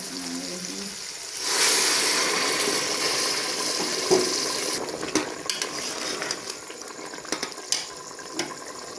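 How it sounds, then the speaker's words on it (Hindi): Boiled water is poured into a pot of black chickpeas (kala chana) on the stove, a sudden rushing splash that settles into gurgling and bubbling, followed by scattered light clinks and stirring sounds. "उबला हुआ पानी मैंने इसके अंदर डाल दिया"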